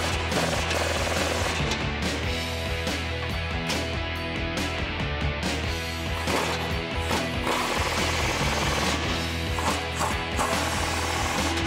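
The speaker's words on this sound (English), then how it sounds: "Now we can tighten up the four bolts using our 18 millimeter socket." Four bolts on a 2009-2018 Ram 1500 Barricade Extreme HD rear bumper being tightened with an 18 mm socket, a loud, continuous mechanical rattling and hammering that runs steadily throughout.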